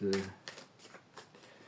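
Tarot of Osho cards being shuffled: a loud riffle at the start, then a few softer, spaced card flicks and slides, close by and alone.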